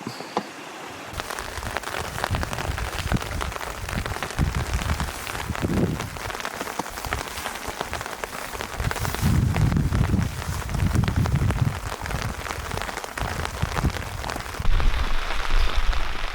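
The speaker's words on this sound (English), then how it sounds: "We're sitting here in the middle of a rainstorm" Rain falls steadily during a storm on a Colorado mountain top, a dense close patter on surfaces with gusts of wind buffeting the microphone, continuous and fairly loud, no speech.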